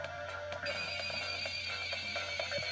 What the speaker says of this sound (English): that's the sound of an enforcer